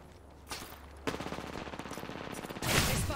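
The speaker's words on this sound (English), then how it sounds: "I'm taking shots." Rapid automatic gunfire in the video game Apex Legends, with a short burst and then a sustained rattling string of shots that runs to the end, close and loud.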